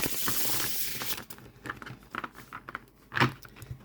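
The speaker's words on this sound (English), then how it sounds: "with the linen finish, it is so easy to shuffle for me" Linen-finish tarot cards shuffled by hand, a loud riffling whoosh at first, then scattered soft flicks and slaps of card stock up close, with one sharper snap near the end and no talking.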